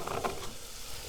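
Onion sizzling in a pan on the stove, a steady close frying hiss with a brief stir near the start.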